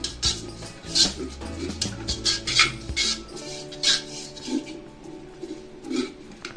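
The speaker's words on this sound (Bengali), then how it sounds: "ভালো করে ঘিটা মাখিয়ে নিচ্ছি।" Ghee rubbed around inside a cooking pot for Hyderabadi kacchi biryani, with repeated metallic scrapes and clinks of a utensil against the pot in short uneven strokes, close and fairly clear, with no talk.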